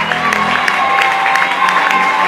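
Church congregation applauding and cheering during a worship service, a steady dense clatter of clapping with mixed voices running unbroken throughout.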